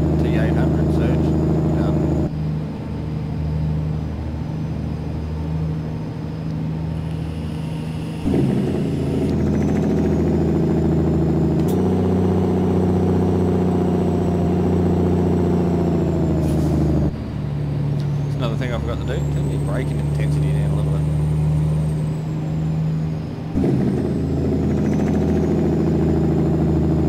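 A Kenworth T800 truck engine in American Truck Simulator drones loudly and steadily, climbing and dropping in pitch through several gear changes and hanging on the exhaust, with someone talking over it.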